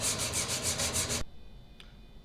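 Wood being hand sanded with 120 grit sandpaper, a close, steady rhythmic rasp of back-and-forth strokes that stops abruptly about halfway, followed by quiet room tone.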